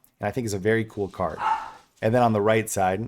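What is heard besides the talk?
dogs barking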